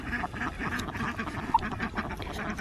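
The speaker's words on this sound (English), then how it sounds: "Below where the chickens are, I have my ducks, and the ducks are sharing the space with the turkeys." Ducks quack in a busy, overlapping chorus of short nasal calls, fairly close, with a steady murmur of activity behind them.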